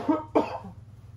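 Two quick, close coughs in a row, followed by a faint rasp, in a quiet room.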